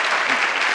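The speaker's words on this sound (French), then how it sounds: "Ils doivent applaudissez pour Dieu." A comedy show audience at Le Parlement du Rire applauding, a short burst of close, dense clapping.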